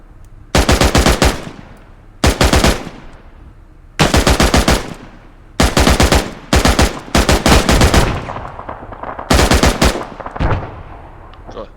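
Automatic gunfire from hostile shooters among cargo containers in a military shooter video game, loud bursts of rapid shots repeating in several separate volleys with short pauses between them.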